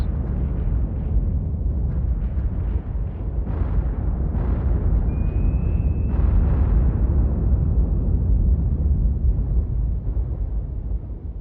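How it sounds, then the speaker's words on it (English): Depth charges exploding around a submerged submarine in the naval game Cold Waters, a continuous heavy low rumble with muffled booming swells throughout, loud and without talk. "keeping under the depth charges right now"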